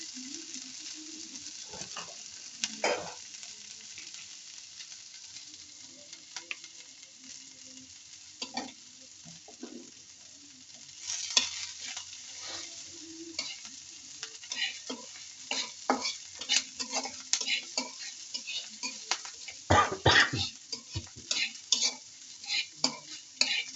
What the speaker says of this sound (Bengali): পেঁয়াজ মরিচ ভাজা নিচ্ছি